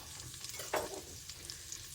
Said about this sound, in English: I have some bacon in pieces here that I've cut up, and I'm rendering those just a little bit